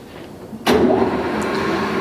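A 30 x 120 Fortune Victor gap bed engine lathe spindle starts up with a sudden jump in level, then settles into a steady mid-pitched motor hum and whine that holds constant.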